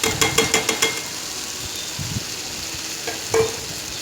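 Tomatoes softening in a pan for a home-cooked lunch, stirred with a run of quick utensil scrapes and clicks at the start, then a soft background sizzle with a few isolated knocks later on.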